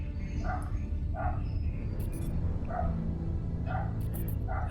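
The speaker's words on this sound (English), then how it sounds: "I can hear the dog barking through my headset" A dog barks outside, heard through an open window: several muffled, moderately distant barks in short bursts over a steady background hum.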